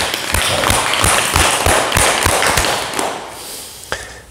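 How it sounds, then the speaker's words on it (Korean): Audience applause at a talk, a burst of rhythmic clapping near the listener that thins out and fades toward the end. "여러분 큰 박수 부탁드립니다"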